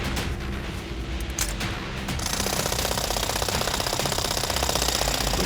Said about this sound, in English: bring in the high-powered hydraulic wrench to loosen the last remaining bolt in the joint. Things are gonna get very noisy around here.